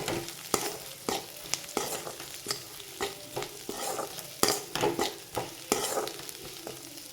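Dried prawns and fried eggs frying in a pan, with a steady oil sizzle broken by repeated scraping clicks from a spatula stirring in a loose rhythm, close up and without speech.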